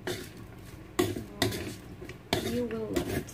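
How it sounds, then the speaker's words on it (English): Mushroom mixture stirred in a pan, with a few sharp utensil scrapes and knocks against the pan over low sizzling background, close and moderately loud. "And then I just mix everything"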